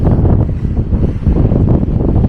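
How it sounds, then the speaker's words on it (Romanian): Strong wind on a hilltop buffets the microphone in a constant low roar, gusting loudly with no voices. "uite aici se simte vântul puternic, că suntem pe deal"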